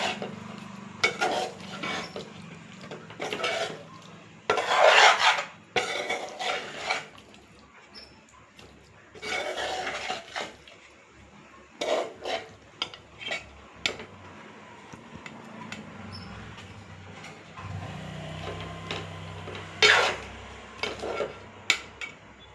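Chicken fry stirred in a pan, with repeated metallic scrapes and clinks of a utensil against cookware in uneven bursts, close and fairly clear, with quiet pauses between strokes and no talking.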